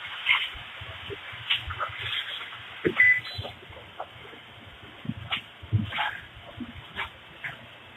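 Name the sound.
dog barking and whimpering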